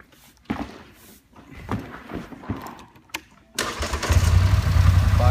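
A 2013 Polaris 850 XP EPS buggy engine cranks after a few clunks and handling noises, then catches and settles into a loud, steady idle close by.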